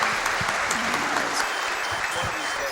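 An audience at a live Super Mario Bros 3 speedrun race breaks into sustained clapping, a dense patter close to the microphone. Talk mixes in underneath.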